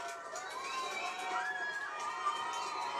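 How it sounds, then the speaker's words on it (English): Enthusiastic crowds line Sean McDermott Street in Dublin for Pope Francis's visit, their cheering and shouting a steady, dense roar with children's voices rising through it. "warm and enthusiastic crowds there lining Sean McDermott Street"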